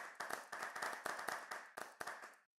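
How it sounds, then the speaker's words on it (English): A small audience at a panel session on Malaysia's Whistleblowing Protection Act gives a short round of applause, individual claps clearly separated in a quick uneven rhythm before stopping abruptly. "Let's give them a round of applause."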